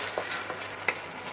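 Mashed boiled potato being stirred into a Kerala-style mutton curry in a pot, heard as a few faint, soft scrapes and wet squelches over a quiet background hiss.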